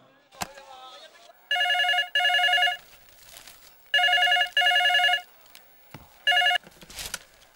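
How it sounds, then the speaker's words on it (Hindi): Telephone bell ringing in a Hindi action film, coming in repeated loud double bursts across several seconds, with brief speech fragments and noises between the rings. "ओ महाराज सलीम, बोलो जी क्या हालचाल है, सुबह सुबह कैसे फोन कर दिया?"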